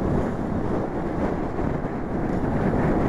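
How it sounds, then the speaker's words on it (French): Sacred-strong gusts of wind roar outdoors as a steady, loud, broadband buffeting against the microphone, pressing on without pause and with no voices. "Il y a des sacrées rafales de vent."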